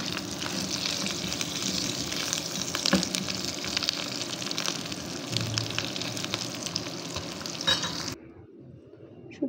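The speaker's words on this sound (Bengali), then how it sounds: "হালকা একটু ভেজে নিতে হবে।" Dried fish (shutki) fries lightly in a pan with a continuous close sizzle and stirring clatter, stopping abruptly near the end and leaving near silence.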